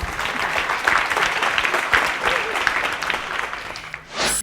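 Audience clapping at a Tamil speech competition, a full, lively round of applause running throughout before cutting off near the end as another sound begins.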